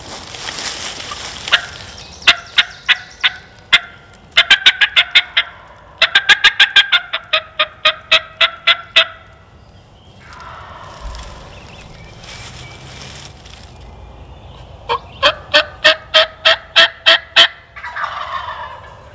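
Wild turkey gobbles, from a flock of gobblers with hens, ring out in repeated loud bursts, several gobbles overlapping in quick succession, with a pause of softer bird calls midway before another close, strong volley.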